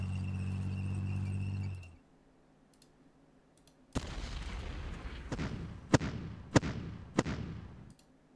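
Artillery fire in the wargame Decisive Campaigns: Blitzkrieg: after a humming tone cuts off and a brief quiet, a series of about five sharp booming shots with rumbling decay follows, spaced roughly a second apart.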